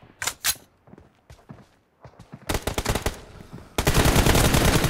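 Bursts of gunfire in a one-on-one video game match, with a few sharp early shots, scattered quieter thuds and footsteps, then dense rapid automatic fire in two loud volleys toward the end.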